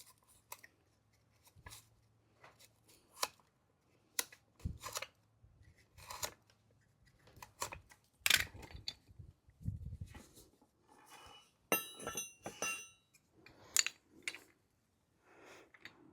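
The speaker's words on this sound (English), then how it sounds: "These ropes are actually pretty tough and not that easy to cut, but we'll see if we can do it with a utility knife." A utility knife sawing through tough synthetic winch rope on a Jeep, heard as a series of short, close scraping and snipping strokes in an irregular rhythm, with brief pauses and no talking.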